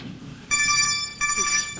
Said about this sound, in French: Ah, le téléphone, oui.